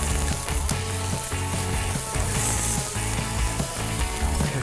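Teriyaki salmon frying in a hot pan gives a steady, loud sizzle that fills the whole stretch, with no talking over it.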